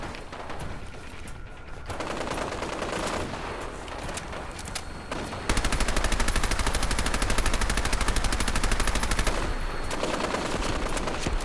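Sustained machine gun fire in the video game Fallout 4, loud and continuous, with a rapid, steady stream of shots. The fire grows denser and harsher partway through amid other battle noise.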